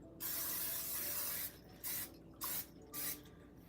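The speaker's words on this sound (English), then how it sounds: "I've got some olive oil spray here." Four or five short bursts of hissing olive oil spray into a pan, each about a quarter to half second long, with a longer first burst, close by and fairly loud.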